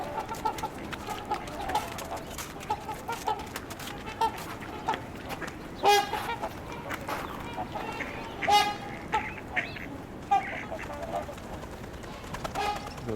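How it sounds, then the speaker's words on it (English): Mallard ducks calling along a rocky shoreline, scattered raspy quacks rising above a busy background of waterfowl chatter, with a few louder nearby calls standing out among fainter ones. "There's a couple of mallards."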